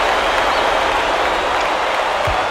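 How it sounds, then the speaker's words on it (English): A crowd cheers and applauds in a College Hoops 2K8 basketball game on Xbox 360, a dense, continuous roar of arena noise that stays loud and even throughout, with no clear speech on top. "This crowd couldn't be any happier."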